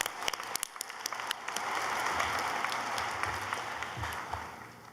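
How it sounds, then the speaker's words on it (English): Applause at a law school graduation ceremony, a fairly distant crowd clapping in a continuous wash with a few sharper individual claps standing out near the start. "I want us to give you another round of applause."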